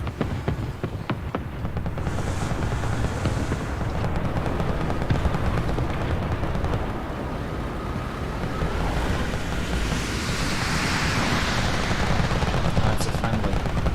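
Aircraft gunfire in War Thunder, sharp bursts of shots near the start over a steady roar of wind and engine noise, with someone speaking briefly.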